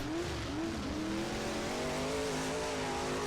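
Race car engines in a night-time racing video game rev with a loud, continuous, buzzing whine whose pitch climbs and shifts as the car speeds up around the track, with faint tire noise underneath.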